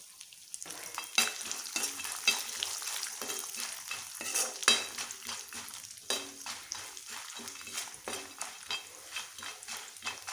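Cumin, mustard seeds, chana dal, urad dal and peanuts sauté in two spoons of oil in a kadai. The sound is a continuous close sizzle with frequent clinking scrapes of a spoon stirring against the pan, and there is no speech.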